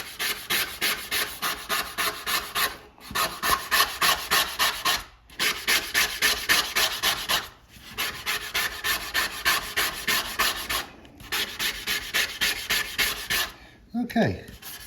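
Razor blade scraping tarnish off a handsaw blade in rhythmic back-and-forth rasping strokes, close and fairly loud, in several runs separated by short pauses, with a faint voice near the end.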